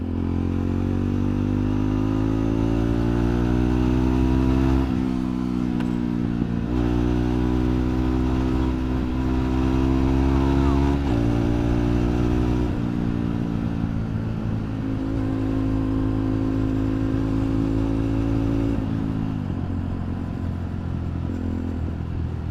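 A Jawa 42 Bobber motorcycle fitted with a performance air filter drones loudly and close while being ridden, its engine note rising and falling through gear changes and steady cruising.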